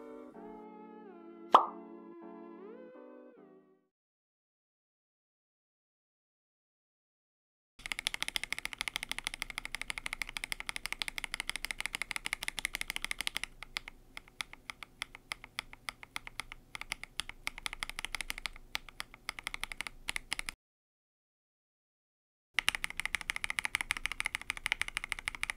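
Glorious Lynx mechanical keyboard switches with swapped stems, typed in fast bursts of dense clacking keystrokes, close and crisp. Two long runs are broken by a short silence after a brief tone at the start.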